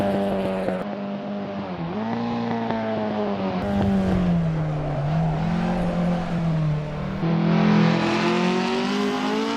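A 1973 Ford Escort rally car with a 260-horsepower engine screams near and loud under hard acceleration, its pitch climbing and dipping through gear changes on a track.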